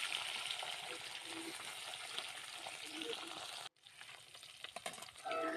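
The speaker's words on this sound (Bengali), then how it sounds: "এবার লবণ হলুদ মাখিয়ে মাছগুলোকে এক এক করে গরম তেলের মধ্যে ছেড়ে" Turmeric-and-salt-coated rohu fish pieces sizzle steadily in hot oil, a dense continuous frying hiss that briefly cuts out and then resumes with faint stirring clatter.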